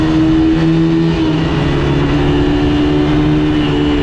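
Car engine droning steadily with a sustained, fairly loud tone through a tunnel while driving, the pitch holding with slight shifts as it accelerates, no talk over it.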